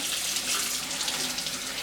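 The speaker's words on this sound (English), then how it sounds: "Just going to turn the water on, and I'm just going to start giving it a little bit of a scrub." Water runs steadily from a kitchen sink faucet in a continuous splashing hiss, close and even throughout.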